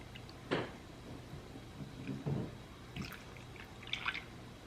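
Lemonade is poured into a glass for a spiked peach lemonade, faint splashes and drips heard in a few short bursts against a quiet background.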